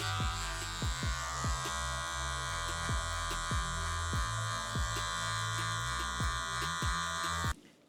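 Electric hair clippers fitted with a half guard, lever open, buzz steadily up close while cutting hair, the drone broken by repeated short strokes every half second or so, then cutting off abruptly near the end.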